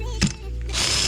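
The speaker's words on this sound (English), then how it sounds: "And we have this drill extension driver." A power drill fitted with an extension driver fastens composite decking with hidden fasteners, giving a short close whirring burst with a brief ratcheting click, alone and without talk.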